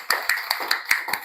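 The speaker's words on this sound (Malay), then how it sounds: "Tepuk tangan untuk Khaira." A short burst of clapping from a few children in a classroom, six or seven distinct claps in an uneven rhythm, close and fairly loud with no voices.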